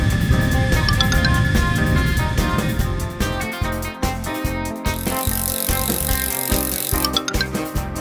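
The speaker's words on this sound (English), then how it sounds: "Cycle" A bicycle among street vehicles, with rattling and rhythmic mechanical clicks over a loud steady background of music-like tones.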